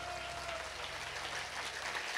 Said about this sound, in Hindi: बस आपकी तालियों में थोड़ा जोर होना चाहिए।